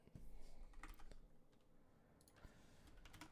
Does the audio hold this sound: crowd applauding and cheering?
no